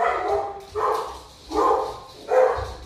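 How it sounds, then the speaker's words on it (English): Several dog barks at a moderate distance, four woofs spaced irregularly with brief gaps between them. "Sorry about the dogs barking"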